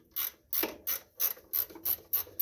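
A ratchet loosens the alternator bracket on a Bobcat Melroe M600 skid loader, making eight rhythmic, evenly spaced clicking bursts at close range with no voices.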